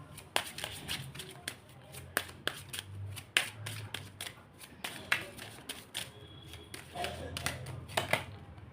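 Tarot cards are shuffled and handled close by, a steady run of soft riffling flicks and sharp snapping taps, with faint quiet talk underneath.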